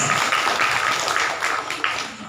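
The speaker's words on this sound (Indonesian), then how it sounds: "tepuk tangan bagi Yesus" A congregation at a revival service claps for Jesus, a dense burst of applause with a few sharper individual claps poking through, fairly close and tapering slightly toward the end.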